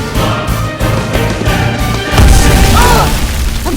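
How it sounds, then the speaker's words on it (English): Booming explosions from the Peter Rabbit film roll out in a loud, continuous barrage, with heavy low rumbles and crashes building toward the end. "it turns into a Michael Bay movie with explosions everywhere and hellfire"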